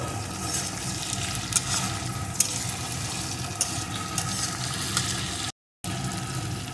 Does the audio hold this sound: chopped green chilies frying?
yes